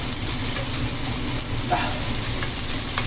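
Paneer, vegetables and spices are stirred in a hot pan for butter paneer with capsicum, giving a loud, steady sizzle with a faint scrape of the spoon, close up.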